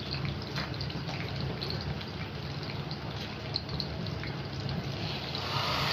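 Boiling water poured into a pot of rice with vermicelli browned in ghee, a steady continuous splashing, hissing flow close by, with no talk.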